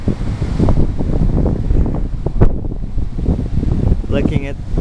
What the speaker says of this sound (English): Very windy here in Mena.